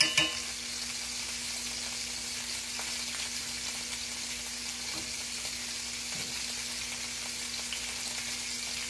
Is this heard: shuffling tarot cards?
no